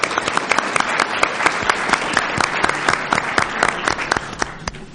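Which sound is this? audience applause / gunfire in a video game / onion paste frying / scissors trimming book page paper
audience applause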